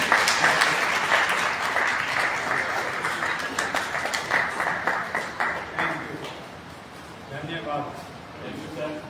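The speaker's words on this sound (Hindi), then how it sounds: "जोरदार तालियों के साथ" Audience applause at a Hindi-language event fills the room, loud at first and thinning into scattered claps, with a voice over it.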